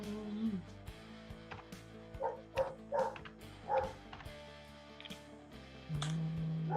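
A dog barks and yips repeatedly in the background of an indoor tabletop roleplaying session, the short bursts scattered through steady room noise and a low hum.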